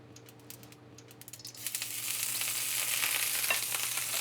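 Broccoli hits hot olive oil in a pan after a few clicks, then sizzles and crackles steadily with a bright, continuous frying hiss, close and without talk.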